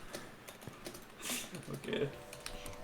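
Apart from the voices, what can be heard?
typing on a computer keyboard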